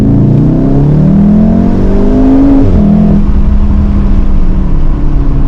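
Volkswagen Golf 7R with 310 hp and four-wheel drive accelerating on a snowy road, its engine loud and close with rising revs, a brief dip around a gearshift, then pulling hard again.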